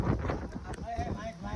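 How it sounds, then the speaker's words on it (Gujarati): Heavy rain and strong wind outdoors, heard as a rough, continuous broadband rush with gusty buffeting, while people talk and call out over it. "વરસાદ આવે છે ને નકરો પવન આવે છે"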